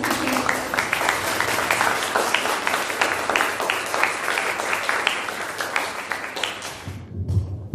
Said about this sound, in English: Let's give another round of applause to all our certificates.